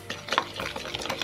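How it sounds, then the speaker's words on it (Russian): A spoon stirring a mixture of oil, paprika, salt and dried garlic in a bowl, with soft close scraping and clinking strokes in an irregular rhythm, with no voices. "Все хорошо перемешиваю."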